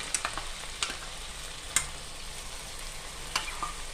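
Sago and boiled mung dal stir-fried in a pan, with a steady sizzle running under sharp metallic scrapes and clinks from a spoon at irregular intervals, close up and with no voices.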